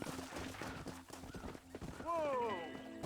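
Horse hooves clip-clop in a steady rhythm in the Red Dead Redemption video game, then a horse lets out a clear neigh near the end, with speech underneath.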